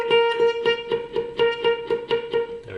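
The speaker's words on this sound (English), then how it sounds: "by positioning your hand at a certain point, you get a palm mute" Muted electric guitar notes picked in a steady, even rhythm, about a dozen short damped plucks with a sustained ringing pitch underneath, played close and alone for a riff lesson.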